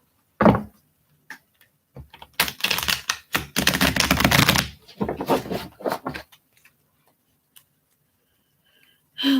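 Tarot cards are shuffled in quick, crisp bursts of riffling and slapping, close by, with short pauses between rounds.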